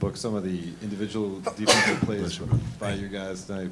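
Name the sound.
sneeze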